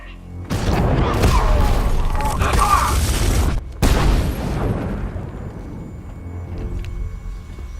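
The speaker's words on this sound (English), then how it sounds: "And Jim, I'll deal with them as soon as I've stopped the explosion" A massive explosion in the Batman Arkham Knight video game erupts loudly with a deep rumbling blast, a brief break, then a second boom that slowly decays into a low lingering roar.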